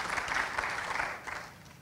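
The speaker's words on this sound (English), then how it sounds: "that's where you clap" Brief burst of audience clapping at a tech conference talk, moderately loud and scattered, lasting under two seconds before tapering off.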